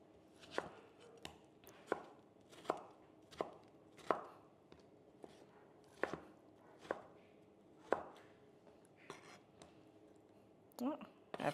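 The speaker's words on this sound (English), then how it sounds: "I was actually supposed to put one aside and chop it up and add it to the soup, so I'm gonna do that now" Knife chopping a charbroiled tomato on a cutting board, a steady series of sharp, close thumps about one per second, with a quicker cluster at the end.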